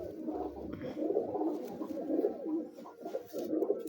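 Teddy pigeons coo in soft, repeated low throaty calls, close by with no other sounds around them.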